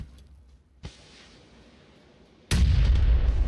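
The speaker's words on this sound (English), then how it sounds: "someone's shooting at me in the back" Gunfire in a squad battle video game on an Asian server: a faint early pop and a sharp crack near one second, then a loud sustained burst of booming shots close by over the last second, with no talking.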